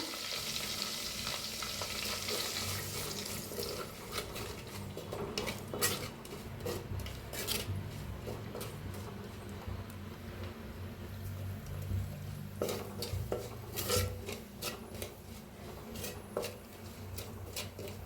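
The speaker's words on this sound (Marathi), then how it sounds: "जी मसाला उरला होता ते बी भाजून घेऊया." Leftover masala spices and coriander dry-roasting in a pan, a continuous low sizzle broken by repeated scraping stirs and metallic taps of a spoon on the pan throughout, with no talking.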